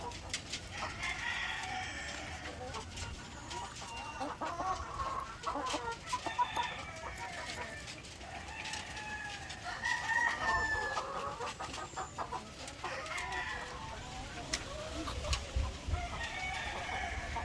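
Laying hens cluck steadily on a poultry farm, with a rooster crowing now and then among the overlapping calls, moderately close and fairly busy throughout.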